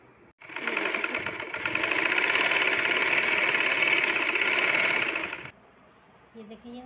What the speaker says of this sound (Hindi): इस तरह से हम सिलाई लगाएंगे